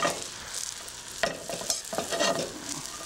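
Bread cubes for panzanella sizzle and crackle as they fry and are stirred in a pan, with scraping bursts of stirring over a steady near hiss and no voices.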